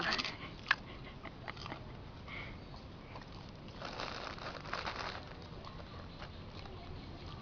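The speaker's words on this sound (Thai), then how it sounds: "ก็อาหารที่ให้นี่ก็เป็น เป็นแคบหมูนะคะ เขาจะมันๆในปาก เวลาเขาเคี้ยวจะอร่อย" Dogs chewing crunchy pork rind snacks, a scatter of close, crisp bites and crunches with quieter gaps between them, no talk.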